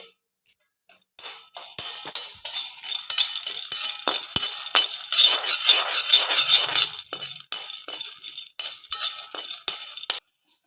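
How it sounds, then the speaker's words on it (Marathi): Peanuts being dry-roasted in an iron kadhai, stirred with a metal spoon: repeated scraping and rattling strokes with light clinks, close and fairly loud, in irregular bursts over about ten seconds, with no talking. "थोडेसे शेंगदाणे आपल्याला भाजून घ्यायचे आहे"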